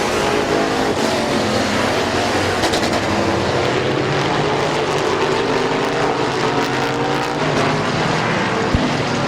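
Big-motor modified race cars with crate engines roar steadily around the oval at Midvale Speedway, a dense, loud, unbroken engine drone with no voices.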